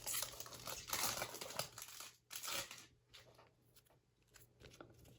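A cellophane wrapper on a 2021 Prizm Draft Picks basketball card pack crinkles close up and quietly, with dense bursts of crackling early on that thin into sparser crinkles.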